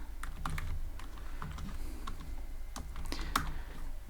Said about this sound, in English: I'm gonna go up here and I'll type def submit